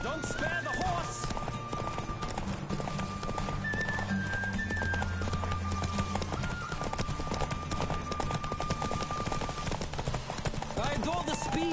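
Hoofbeats of a galloping horse in The Witcher 3 keep a continuous drumming rhythm for the whole stretch, layered under game music, with a voice speaking over the top.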